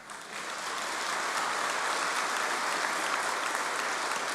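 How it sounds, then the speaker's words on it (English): A large degree ceremony audience in London breaks into applause, the clapping swelling within half a second into a thick, sustained roar that stays loud and even throughout. "Well, you applaud now"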